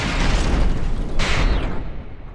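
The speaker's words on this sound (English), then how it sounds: "The first shells landed?" Artillery shells landing and exploding in a tank battle video game, a heavy rumbling boom that swells and rolls on for a couple of seconds with a sharper burst midway, loud and without talk.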